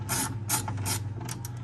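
Close, quick ratchet clicking from a wrench driving a window regulator bolt on a ninth-generation Honda Civic, a short run of light strokes with no speech.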